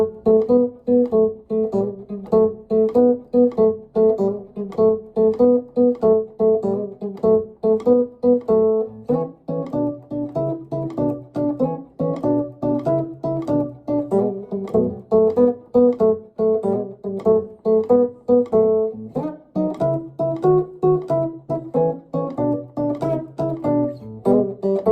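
Chicago blues electric guitar pattern in the early electric style, played straight through with open strings and a capo, a steady rhythmic riff of dense plucked notes and chords running for the whole stretch with no talking.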